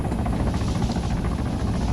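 Large helicopter flying in Arma 3, a steady loud rotor thump and engine roar held evenly and close, with no voices.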